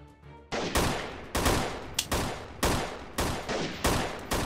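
Rifle shots ring out in a battle in the video game Freeman Guerrilla Warfare: about eight loud, close single cracks at irregular intervals, each trailing into a noisy echo, with no talk.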